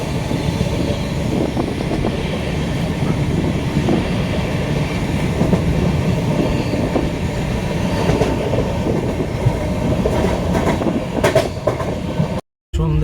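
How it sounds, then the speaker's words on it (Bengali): Netaji Express, a passenger train, rolls along the rails with a loud, continuous rumble and rhythmic wheel clatter, heard from inside the carriage, cut briefly near the end. "তার উপর দিয়ে আমাদের ট্রেন এগিয়ে চলেছে।"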